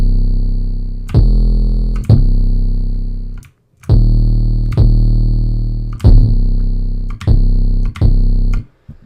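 Heavy distorted 808 bass in a Ronny J style, made in FL Studio and pushed through MDA Degrade, plays six long gliding notes in a loose rhythm, each attack followed by a grainy sustained tail, loud and alone.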